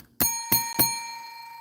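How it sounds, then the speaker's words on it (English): A small smiley dinner bell struck three times in quick succession, each bright metallic ding ringing on and decaying slowly after the last strike, loud and close with no talk over it. "Got my dinner bell here too."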